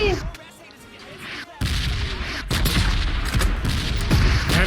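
A rocket fired from behind the player in the battle royale game PUBG booms loudly with sharp onset, followed by sustained rumbling blasts and scattered gunfire that stay loud to the end.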